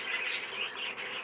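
A cage bird calling from a breeding cage, a steady run of soft, high chirps and twitters, fairly faint and with no voices.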